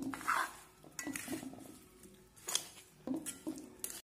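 Olive pickle is mixed with salt and turmeric in a bowl, giving short bursts of spoon scraping and clinking against the container separated by brief pauses, fairly quiet and close.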